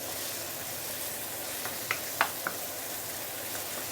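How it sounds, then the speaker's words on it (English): Minced pork sautés in a pan for mapo tofu, a steady, even sizzle with a few light clicks from stirring, close by and with no talking. "So you want to saute the pork, the minced pork or the minced meat for a minute or 2 before we continue."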